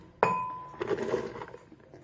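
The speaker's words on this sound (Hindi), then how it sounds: "और ब्लेंडर में हम डालेंगे हरी मिर्चें।" Green chillies dropped into a glass blender jar give one sharp clink followed by a ringing tone, then a second of soft rattling and knocking before the noise fades to quiet.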